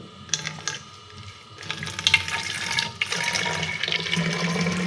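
Boiled water pours and splashes into a container in a steady, close stream that grows fuller and louder toward the end, with no talking over it.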